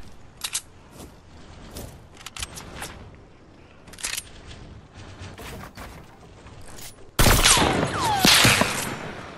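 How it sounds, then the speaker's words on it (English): Heavy sniper rifles fire in the Fortnite battle royale game as a series of sharp gunshot cracks, scattered at first, then a loud sustained burst of shooting near the end. "Oh my god, they got heavy snipers."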